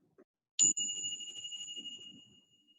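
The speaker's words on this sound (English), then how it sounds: "And we'll finish with a bell." A meditation bell struck once to close a guided mindfulness exercise, a bright clear ding that rings on and fades slowly while a soft low voice murmurs underneath.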